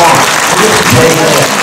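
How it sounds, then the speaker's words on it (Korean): Brief, loud, continuous applause from a lecture hall audience at a special lecture in a district office auditorium, a dense wash of clapping that lasts under two seconds. "다시 한번 우리 감사의 큰 박수 부탁드리겠습니다"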